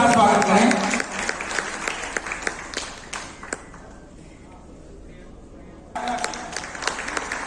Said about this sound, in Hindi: शादरा मंडल के आशीष कौशिक जी, जोरदार तालियों के साथ स्वागत करें।